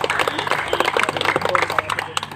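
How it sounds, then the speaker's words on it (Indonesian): Applause from football supporters at a religious talk held at a peace declaration gathering, many hands clapping at once in a busy, steady patter, close and fairly loud, with a low hum running underneath. "Tepuk tangan dulu."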